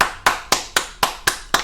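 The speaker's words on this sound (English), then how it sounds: "Round of applause for that." A pair of hands clap in applause, seven sharp claps at an even, brisk pace, close and alone with no voices.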